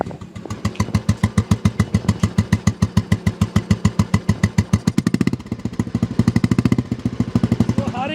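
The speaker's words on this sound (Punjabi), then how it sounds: "ਇੱਕੋ ਕਿੱਕ ਤੇ ਸਟਾਰਟ ਹੋਇਆ ਇਹ ਬੁਲਟ ਸੋ ਇਸ ਦੀ ਆਵਾਜ਼ ਜਿਹੜੀ ਉਹ ਤੁਹਾਨੂੰ ਉਹ ਚੈੱਕ ਕਰਵਾਵਾਂਗੇ" A Royal Enfield Bullet motorcycle engine thumps at idle, a loud, slow, evenly spaced beat that briefly revs up before settling back into its steady rhythm.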